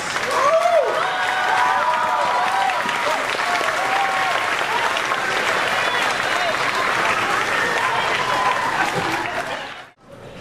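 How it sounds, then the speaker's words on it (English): Standing school audience giving students a big round of applause, loud and sustained dense clapping with crowd noise and some voices mixed in, cutting off abruptly near the end. "I want all of you to stand and give these students a big round of applause"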